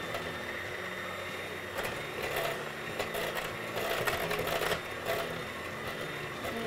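Egg whites being beaten with an electric mixer, a steady whirring motor buzz with rattling beater noise, fairly close and continuous, with a few louder scraping bursts partway through and no talking.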